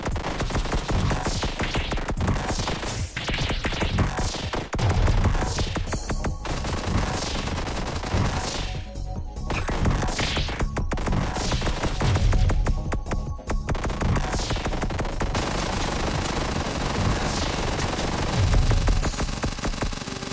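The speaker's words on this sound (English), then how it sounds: "I can always move around while I'm firing the heavy machine gun" Relentless rapid bursts of heavy machine gun fire in the video game One Step From Eden, loud and dense with only brief gaps, layered over a constant droning background.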